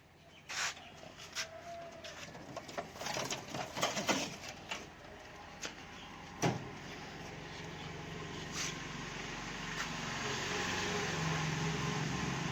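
Pigeons coo softly amid a steady hum of background noise, with scattered faint taps and rustles close by and no talk.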